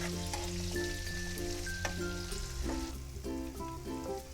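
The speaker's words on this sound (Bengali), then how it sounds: "বন্ধুরা এই পেঁয়াজটা ভাজতে আমার 2 মিনিট লাগবে।" Chopped onions fry in hot mustard oil in a pan for a winter pangas fish curry, a steady close sizzle with occasional stirring clinks and scrapes, no voices.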